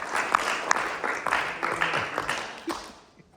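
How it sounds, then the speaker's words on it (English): A classroom of students applauds a speaker giving an experience speech, the clapping broad and steady for about three seconds before tapering off, with a few louder individual claps standing out. "let's give a round of applause for Vester"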